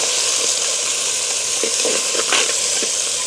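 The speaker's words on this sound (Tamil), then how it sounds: "இதோட சின்ன வெங்காயம் பச்சை மிளகா இப்படியே நல்ல வடிவாக பிரட்டி விடுவோம்" Small shallots and green chillies with mustard and fennel seeds stir-fried in hot oil, giving a steady close sizzle broken by light scraping stirs over a few seconds.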